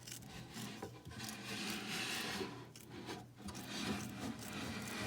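Scissors cut through silver vinyl trim on the brim of a Santa hat, giving a continuous, close rasping and rubbing with a few brief dips.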